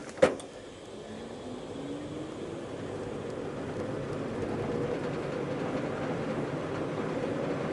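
An electric-converted VW Beetle pulls away in third gear, its steady motor whine rising slowly under a continuous road rumble, with a sharp click at the start and no talking.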